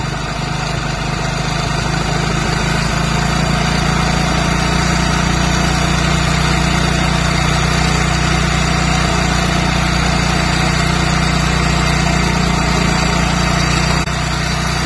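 A Hero Splendor motorcycle engine idles steadily while its air mixture is being adjusted, a constant close, loud putter with a low hum and no break throughout.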